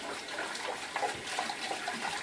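Running water splashes continuously while lather is washed out of a shaving bowl, a close, steady wash with small sloshing surges and no speech.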